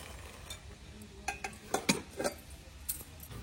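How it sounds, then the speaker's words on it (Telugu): Jaggery and raw mango pieces being crushed in a bowl, giving a few sharp clinks and knocks scattered across a few seconds, fairly quiet and close, with no talk over them. "దీన్ని నేనేం చేస్తున్నా, క్రష్ చేస్తున్నా."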